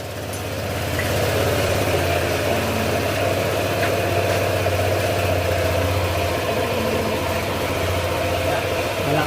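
A Honda Click 125 scooter fitted with an upgraded 150cc engine idles steadily, a continuous close, loud low hum with a fairly even rumble throughout and no clear talk over it.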